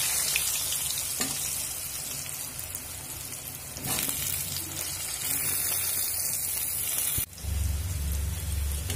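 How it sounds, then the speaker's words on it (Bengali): Boiled potatoes, pricked with a toothpick, frying in hot oil: a steady, dense sizzle close up that runs throughout, with a sudden shift partway when the potatoes shift or are stirred. "এবার যে আলুগুলো আমি সিদ্ধ করে টুথপিক দিয়ে ছিদ্র করে রেখেছি এই আলুগুলো ভেজে নেব।"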